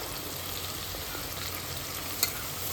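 Onions frying in a pan for a Konkan-style river crab masala, a continuous even hiss of sizzling oil, close and steady, with one small tap near the end.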